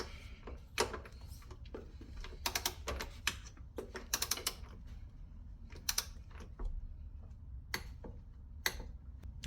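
A wrench ratchets and clicks while tightening a frame slider mount bolt on a 2003 ZZR 1200 motorcycle, producing irregular close, faint ticks in quick bursts.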